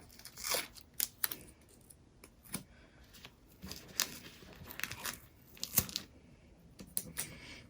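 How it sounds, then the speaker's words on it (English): Strips of tape peeled from an in-the-hoop embroidery zipper bag project with an owl top: quiet, intermittent ripping and crinkling bursts, scattered irregularly and heard alone. "So I'm going to go ahead and take this tape off."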